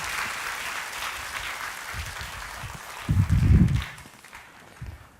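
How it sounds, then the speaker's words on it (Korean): A church congregation applauds a guest lecturer being welcomed at a Sunday service, steady clapping from a crowd in a hall, with a few heavier thumps partway through before the clapping fades out. "여러분 뜨거운 박수로 맞아주시기 바랍니다."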